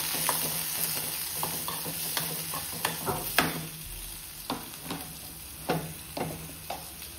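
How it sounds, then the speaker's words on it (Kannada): Chopped onions fry in a pan with curry leaves, a constant sizzling hiss under repeated crisp spatula scrapes and taps as they are stirred, close and fairly loud. "ಅದು ಈರುಳ್ಳಿ ಸ್ವಲ್ಪ ಕಲರ್ ಚೇಂಜ್ ಆಗೋವರೆಗೂ ಫ್ರೈ ಮಾಡಿ"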